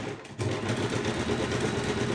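A sewing machine fitted with a zigzag foot runs slowly, turned by hand, and gives a close, soft, rhythmic mechanical whirring after a brief quiet start.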